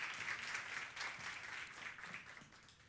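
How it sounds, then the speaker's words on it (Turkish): A seminar audience applauds to welcome a speaker to the stage, a steady wash of clapping from many hands, heard at a distance and fairly faint. "Şimdi alkışlarla ben hocamı sahneye davet etmek istiyorum."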